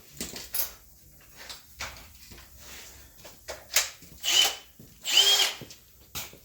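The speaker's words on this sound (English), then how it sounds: "start hammering through these spot welds" Short bursts from a cordless drill grinding through spot welds on a Ram 2500, starting and stopping irregularly, with a few sharper high whines toward the end, close by.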